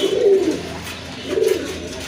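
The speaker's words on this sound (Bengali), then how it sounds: "এখানে দেখতে পাচ্ছেন এক জোড়া শার্টের কবুতর আছে" A pair of white shirt pigeons coo close by, two soft throaty coos spaced about a second apart, with nothing else audible.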